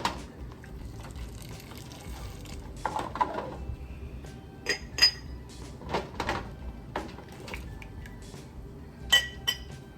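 Glass jars for garlic dill pickles are handled on a kitchen counter, giving sharp clinks and knocks scattered irregularly over soft background noise, close and fairly clear with no talking.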